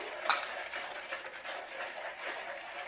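A utensil stirs salt into a pizza dough mixture in a bowl, giving a faint, continuous scraping and swishing with a light clink near the start.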